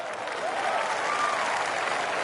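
A large golf tournament crowd at the Waste Management Phoenix Open in a PS4 golf game applauds steadily, a dense, continuous wash of clapping at even loudness throughout.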